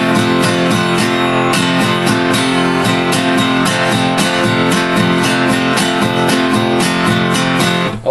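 Acoustic guitar strummed through two bars of a song, a barred chord shape ringing with the open first string, steady down-up rhythm, loud and close, with no voice over it.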